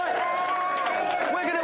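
A television game show studio audience cheers and claps for a team, a dense, loud burst of whoops and applause filling the whole short stretch.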